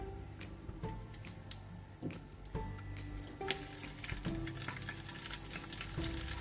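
Mustard seeds and dried whole red chilies sizzle steadily in hot oil for daal tempering, a dense crackling fry with sharp pops and occasional utensil clinks, close and fairly loud with no talking.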